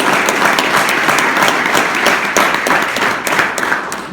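Sustained applause from an audience at a county budget address in Dutchess County, a dense wash of many hands clapping loudly and evenly with no one speaking over it.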